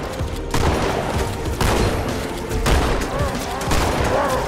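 Repeated heavy shotgun blasts in the video game Halo 2, dense booming shots roughly every second over continuous battle noise and game sound.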